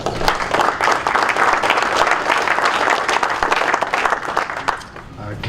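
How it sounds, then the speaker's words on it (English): A quick round of applause at a golf professionals' meeting, dense sustained clapping from a sizable audience filling the room, holding steady before tapering slightly at the end. "So, quick round of applause."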